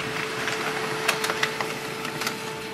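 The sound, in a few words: HP LaserJet Tank 2504dw printer printing an information page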